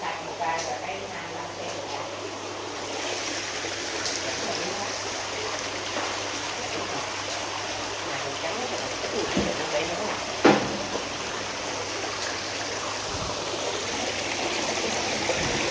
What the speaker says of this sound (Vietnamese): Nghe tiếng thác rất là mạnh cả nhà ha. Tại bơm một ngựa thì khá là mạnh.